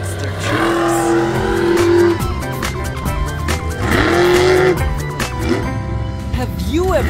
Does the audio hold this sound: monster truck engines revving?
yes